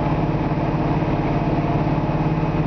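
A 1973 Camaro Z28 with a rebuilt V8 bored to 355, with a Lunati cam, aluminum intake and 882 heads, idles steadily with a deep, even rumble, close and continuous without any revving.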